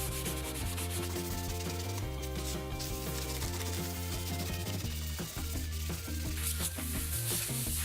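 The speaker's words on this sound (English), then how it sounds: "I'll sand the wood a couple of times to remove paint in certain spots" Sandpaper rubbed back and forth over painted wood to wear through the finish, a continuous close scratching that runs without pause throughout, with steady tones continuing underneath.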